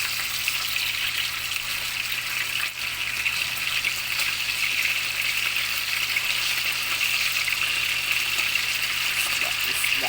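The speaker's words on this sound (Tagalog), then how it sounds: "Prito tayo ng pink salmon belly." Pink salmon belly frying in hot oil gives a steady, close, hissing sizzle that holds evenly throughout with no pauses.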